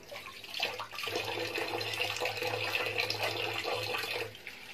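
Water trickles from a tap into a tahini and yogurt mixture in a home kitchen, a steady close splashing and running sound that continues throughout with no talk.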